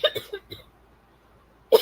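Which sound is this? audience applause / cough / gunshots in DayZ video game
cough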